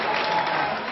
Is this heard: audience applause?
yes